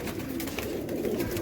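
A domestic pigeon coos in a rooftop loft, a soft, low, throaty burbling repeated close by, alone without voices.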